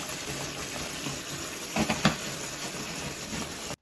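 Tap water runs steadily into a pot in a kitchen sink, a continuous hiss-like rush with a couple of brief louder splashes near the middle, then stops abruptly.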